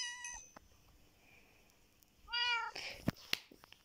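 Cat meowing in the Minecraft video game: a short meow near the start, then a louder drawn-out meow midway, followed by a few sharp clicks and game noises.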